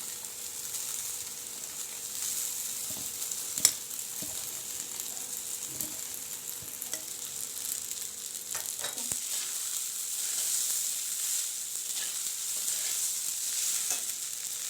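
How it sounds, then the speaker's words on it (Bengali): Boiled chow noodles frying with soybean chunks and onion in a pan, a steady close sizzle broken by scraping and knocking as the mixture is stirred now and then. "সোয়াবিনটা পেঁয়াজটা আমি ভালো করে ভেজে নিয়েছি এবার আমি সেদ্ধ চাউটা দিয়ে দেবো"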